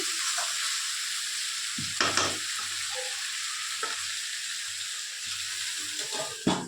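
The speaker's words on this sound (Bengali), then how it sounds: "দুইটা ভেন্ডি ছিল কয়টা করলা ছিল চারটার মতন আলু ছিল আর একটুখানি কচু ছিল মিক্স করে ভাজি করতেছি" A steady loud sizzle of okra, bitter gourd, potato and taro frying together in a pan, with occasional spatula scrapes and clanks stirring the mix, up close throughout.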